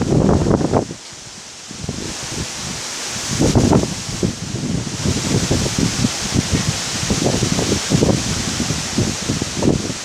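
Gusty wind sweeps through leaves in rising and falling bursts, a steady rustling hiss with louder surges every second or two.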